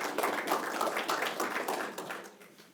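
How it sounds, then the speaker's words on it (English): An audience applauds at a talk on bicycle-friendly communities, a soft, even patter of many hands that gradually fades toward the end. "Give yourselves a round of applause"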